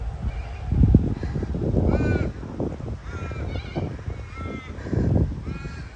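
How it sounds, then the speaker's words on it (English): Crows caw several times from nearby trees along a country road during a drive to a historic farm, with magpies also around; the harsh calls come in short bursts over a steady low rumble. "3 crows and a magpie."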